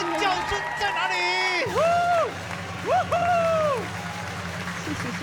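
A studio audience on a Taiwanese variety singing contest show claps and cheers in a broad sustained wash, with loud whoops and screams rising on top. A voice sings or speaks over the noise.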